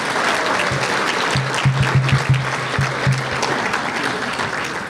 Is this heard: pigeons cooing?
no